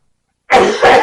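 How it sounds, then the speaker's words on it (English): Someone coughs hard twice, loud and close, after sipping a 108-proof Heaven's Door bourbon, following a moment of silence. "Are you gonna cough yourself to death again?"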